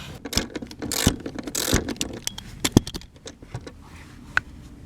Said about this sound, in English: Let me get these bolts off.